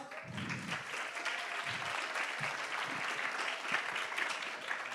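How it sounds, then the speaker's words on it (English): An audience at a community event gives a round of applause, a continuous dense clatter of many hands clapping at moderate level with a few low thumps underneath and no voices. "So please give them a round of applause."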